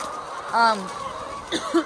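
Chickens on a farm cluck nearby in short, separate calls, a couple of brief clucks standing out over a quiet background hum.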